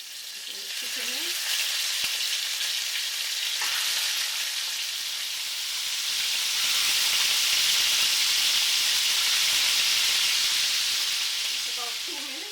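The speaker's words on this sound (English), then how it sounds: "And if it sizzles, that means it's ready." Chicken for Jamaican brown stew chicken fries in hot oil, giving a loud, steady sizzle and hiss that lasts throughout and briefly grows stronger partway through.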